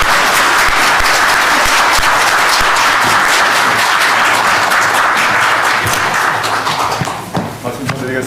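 A room of reporters at a New Year party press conference bursts into loud, dense applause that holds steady before thinning out and fading near the end.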